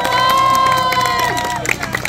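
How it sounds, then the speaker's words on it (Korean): Crowd cheering and clapping at an outdoor moonlit music concert by Geumdangcheon stream, with families and children in the audience. A loud, dense roar of voices fills the short stretch without a break. "큰 박수 부탁드리겠습니다"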